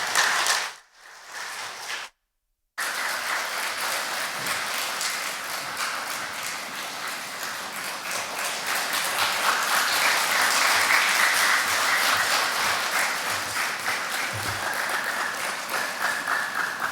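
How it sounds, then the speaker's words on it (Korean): A church autumn retreat audience applauds to welcome a speaker, with sustained, dense clapping filling the hall after a brief quiet gap, growing slightly louder midway and continuing steadily to the end. "박수로 맞이하도록 하겠습니다."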